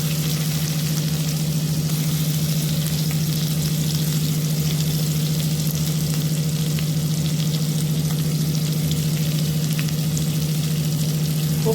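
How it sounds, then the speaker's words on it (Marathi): Masala-stuffed brinjals laid on spread ground masala in a pan, frying with a continuous even sizzle and a low steady hum underneath, no voices. "त्याला त्याच्यावरती आपली ही वांगी ठेवायची"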